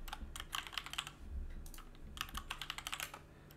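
Typing on a computer keyboard comes through as two quick bursts of close, crisp key clicks separated by a short pause, with no talking.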